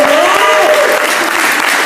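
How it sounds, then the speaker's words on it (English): Crowd applause at a campaign kickoff, loud close clapping with some cheering and a few raised voices mixed in, sustained across the whole short stretch. "So let's give Al a round of applause."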